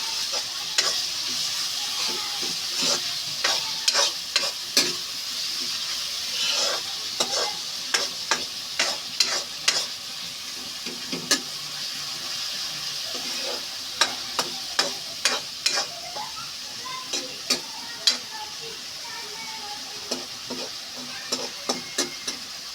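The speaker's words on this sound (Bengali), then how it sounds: "এখন আবার নেড়ে মিক্স করে নেব ভালোভাবে" Chicken lollipop masala with onion being stirred and mixed in a hot pan: a continuous sizzle broken by many sharp, irregular spatula scrapes and knocks, close and fairly loud throughout.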